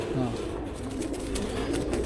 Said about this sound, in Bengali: মাদি কবুতর না নর কবুতর? এটা নর কবুতর।